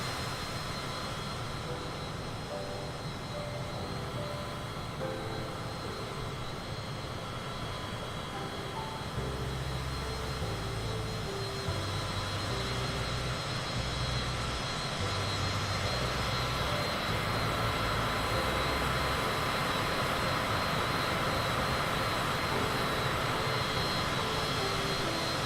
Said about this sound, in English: Gotta love these business jets.